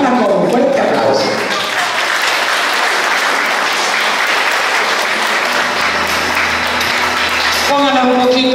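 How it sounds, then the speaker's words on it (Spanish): Loud, sustained applause from an audience at a gathering honoring elderly people, as a ribbon is placed on the Flor de Diciembre honoree; dense clapping runs throughout, with voices and a brief tonal sound near the end. "Recibámosla con un fuerte aplauso"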